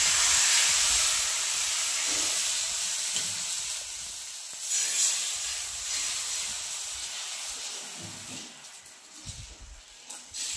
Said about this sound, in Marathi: झाले आता मुगाचं डोसं करून. दुसरं आता मोठं सोडा दुसरं पलटते आता.